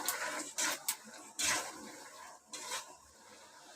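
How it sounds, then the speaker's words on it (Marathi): Peanuts being dry-roasted until red and stirred in a pan, heard as soft scraping and rattling strokes at an irregular rhythm, close up and fairly quiet. "शेंगदाणे भाजून घेते चांगलं लाल करायचे शेंगदाणे"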